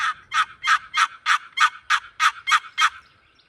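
A handheld turkey call imitates a wild turkey gobble: about ten rapid, evenly spaced yelping notes, loud and close, tapering off at the end with no talk over it.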